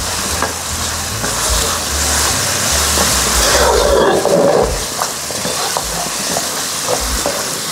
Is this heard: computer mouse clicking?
no